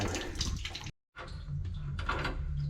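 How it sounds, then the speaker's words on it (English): Water draining from a flat boiler expansion vessel into buckets, a steady splashing pour broken by a brief silent gap, close and moderately loud with no talking. "That expansion vessel is just draining down"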